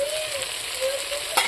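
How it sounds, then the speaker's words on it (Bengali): Eggplant slices coated in salt and turmeric fry in hot oil in a partly covered pan, giving a steady, close sizzle with a faint tonal whine and a brief louder crackle near the end. "তেলে নুনে হলুদে বেগুনগুলো ভালো করে মিক্স করে নিয়ে ভাজিয়ে নেব।"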